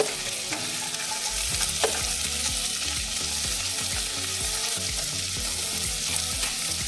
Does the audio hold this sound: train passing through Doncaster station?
no